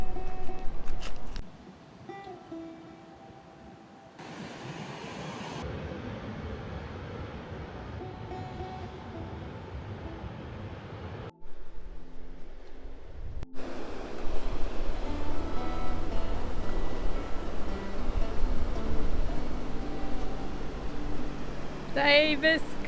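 Surf breaking at Davis Creek Beach near Mallacoota, a steady roar of waves with wind noise across the microphone, louder in the second half after a short quieter break, with people talking over it.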